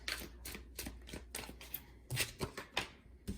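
Tarot cards being shuffled and drawn, a run of crisp riffling snaps and flicks at a steady pace, close and fairly quiet, with no speech.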